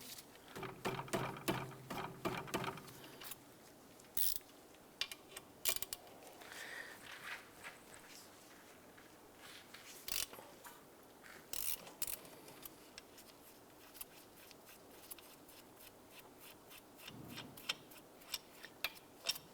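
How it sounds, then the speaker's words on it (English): A 14mm ratchet wrench works a caliper slide pin bolt loose on a 2006–2011 Cadillac DTS rear brake, with quiet, rapid clicking bursts separated by pauses and occasional metallic knocks. "use a 14mm ratchet wrench to remove this caliper slide pin bolt"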